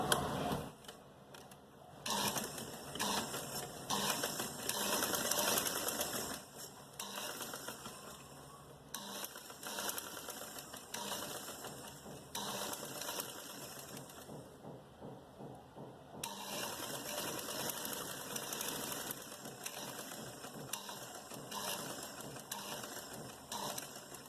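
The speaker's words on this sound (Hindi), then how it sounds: "मैं यहाँ से सिलाई कर रही हूँ।" Sewing machine stitching a salwar hem fitting with cut work, a fast, continuous mechanical chatter running in long bursts with brief pauses, close and steady throughout.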